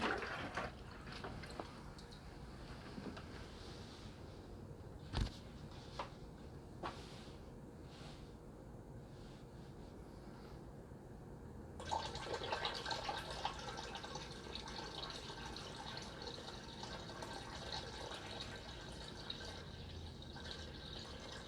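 Water running into a planted aquarium tank, a faint trickle with scattered drips and splashes that turns into a denser, steadier pouring rush about halfway through, no voices.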